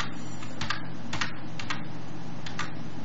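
Keys clack on a computer keyboard as a command is entered at a Linux terminal, a handful of quick close keystroke clusters spaced irregularly over a steady background hum.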